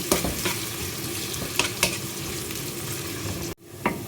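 Potatoes sizzle in a frying pan as they are stirred toward golden brown, a constant close hiss broken by sharp spatula scrapes and taps, with a sudden brief drop near the end before stirring resumes.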